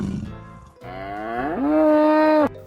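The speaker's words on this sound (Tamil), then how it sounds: "அந்த மாடு உடனே கத்துச்சு." A cow gives one long, rising moo, clear and fairly close, with a short rough grunt just before it and nothing else around.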